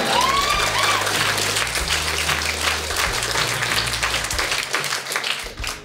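Wedding guests at Sherbrooke Castle clapping during a speech welcoming the bride to the family, a full, steady round of applause from the room over a low musical hum, tapering off toward the end.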